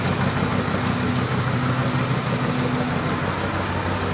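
Steady engine drone from a Mercedes-Benz MB 1525 dump truck as its raised tipper body is lowered, with a continuous low, even rumble and hum close by and no break.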